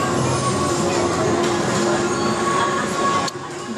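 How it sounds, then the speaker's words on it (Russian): A model train sets off on a display layout, its wheels and motor giving a steady rolling whir with faint squeals and tones, fairly close, before the sound drops away near the end. "И поезд поехал."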